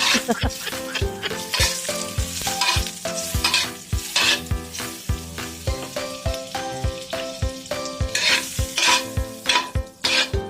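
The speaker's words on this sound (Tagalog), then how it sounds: "At simulan na natin painitin ng kawali. Lagyan na natin yan ng butter." Butter sizzles and fries in a heated wok for garlic fried rice, a steady crackling hiss broken by frequent sharp scrapes and taps of a utensil stirring against the pan, close and fairly loud throughout.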